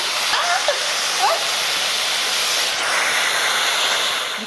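An Instant Pot pressure cooker holding menudo blanco vents steam in a loud, continuous broadband hiss that stays steady throughout, with a couple of faint voices briefly under it.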